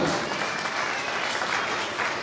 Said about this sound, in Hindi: उनके लिए जोरदार तालियां एक बार